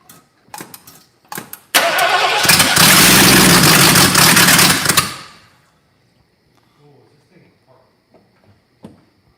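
An engine cranks briefly, then fires and runs loudly for about three seconds before dying away, with a few short voices and clicks before and after.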